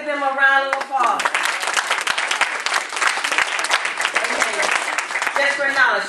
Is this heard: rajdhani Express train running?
no